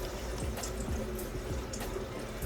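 Water poured onto an indoor plant, a soft steady trickle and splash that runs faintly and continuously for a couple of seconds with no talking.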